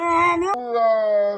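A dog howls in a long, sustained, wavering tone, close and loud, with a brief break partway through before the howl continues.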